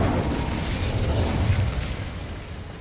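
Confringo and Incendio spell blasts in Hogwarts Legacy, a dense continuous roar of fiery bursts and crackling that holds steady and then eases slightly, loud and close with no talk.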